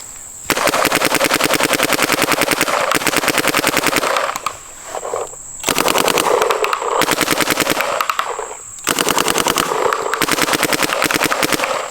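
A Shocker Era paintball marker fires in long rapid bursts, a dense mechanical rattle of shots with brief pauses between strings, loud and close, with no talk.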